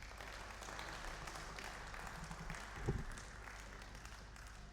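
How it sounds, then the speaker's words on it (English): A hometown crowd applauds steadily at a Predator World Women's 10-Ball Championship pool match, a dense wash of clapping that swells briefly near the end, with faint talk underneath. "sound of the applause, that's correct."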